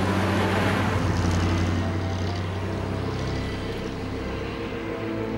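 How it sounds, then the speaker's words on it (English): Ford V8 engine in a Top Marques P1 car, a steady, full-bodied low rumble that holds evenly throughout at close range with no talking. "It also makes a beautiful noise which only a V8 can produce."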